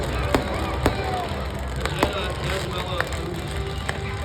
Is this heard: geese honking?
no